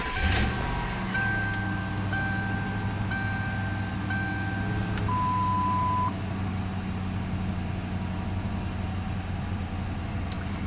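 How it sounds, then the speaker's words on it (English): A Ford Crown Victoria with 195,480 km idles steadily with a low rumble after starting, joined by a few short electronic beeps early on; no one speaks. "so I've started the car"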